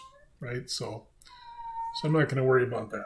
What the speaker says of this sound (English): that's just the cat howling in the background